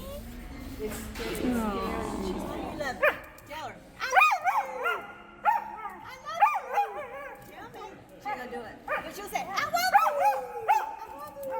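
A misplaced female dog gives a series of short, high yipping barks in bursts, close by, after people talk over the opening seconds.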